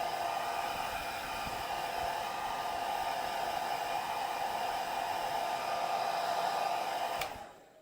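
A hair dryer on a single speed runs steadily over a leather repair as it is lightly dried, a constant airy whine that cuts off abruptly near the end.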